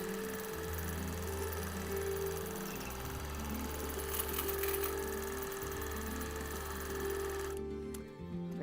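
A free-motion quilting machine stitches a pass across a quilt of 1930s reproduction prints, its motor a steady, close hum that shifts in pitch as the stitching speed changes, then cuts out near the end.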